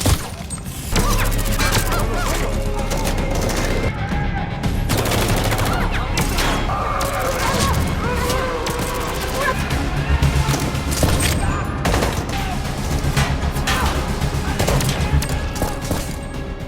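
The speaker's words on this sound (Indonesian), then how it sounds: "terjadilah baku tembak" Gunfire crackles almost nonstop through a cartel shootout with DEA agents in an action film, dense bursts of shots mixed with music and effects, loud and close throughout.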